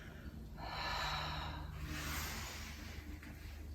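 A slow, breathy exhale during a Pilates exercise, a soft airy rush of breath lasting a few seconds, close and fairly quiet, with no talk over it.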